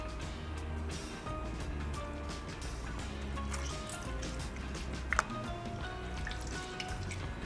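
Water drips from gelatin sheets wrung out over a pan taken off the heat while making panna cotta: soft, faint drips over a steady background hiss, with one small sharp splash near the end.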